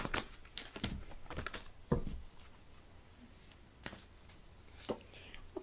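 A quick riffle shuffle of playing cards, fluttering clicks followed by a few sharper taps as the deck is squared, close by.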